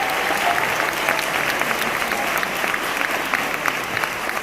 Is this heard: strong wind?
no